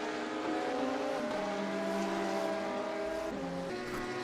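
GT3 race cars, an Audi and a Ferrari, running on the Daytona road course in a sim race, steady droning engines holding near-constant pitch with a couple of gear shifts, continuous and unbroken by talk.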